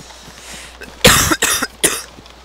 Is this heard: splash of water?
no